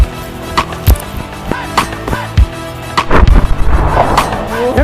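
Loud firecracker explosions, an atom bomb cracker, go off outdoors as a series of sharp, booming bangs, ending with a rapid cluster of blasts over a noisy background.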